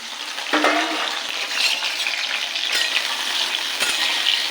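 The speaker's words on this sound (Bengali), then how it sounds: "তেল গরম হয়ে গেছে এবার আলুটাকে ভাজতে বসিয়ে দিলাম" Potatoes frying in hot oil in a wok, a steady loud sizzle that holds throughout, with a few sharp clinks from the utensil and no talk.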